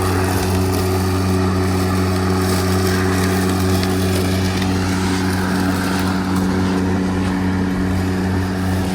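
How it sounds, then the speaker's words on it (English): A push lawn mower's small engine runs steadily close by, a loud, even drone with a strong low hum and no breaks, alone without talk. "Your mower's running."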